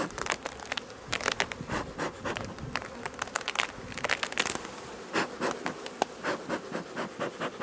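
Honey bees swarm around an opened beehive during a summer honey harvest, a dense close buzzing with sharp, irregular swells as individual insects pass near, mixed with light crinkling handling noises.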